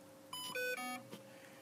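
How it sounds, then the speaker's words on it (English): A Kosmik drone speed controller plays its initialization beeps, a quick rising series of three or four bright electronic tones, close and clear against faint background hiss. "That's your initialization beeps."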